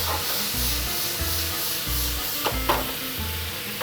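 Bacon sizzles in a pan for carbonara, a bright, constant frying hiss with occasional stirring scrapes and a few louder pops, close and without talking.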